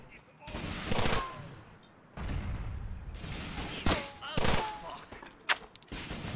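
Grenade blasts and gunfire in the video game GTA IV, The Ballad of Gay Tony, come as heavy booming bursts and rattling shots in uneven clusters, with a faint voice underneath.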